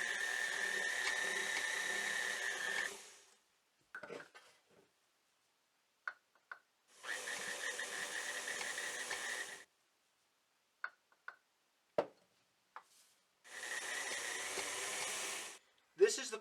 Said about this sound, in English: this mixer is slightly broken and doesn't have a stir function, so it's particularly messy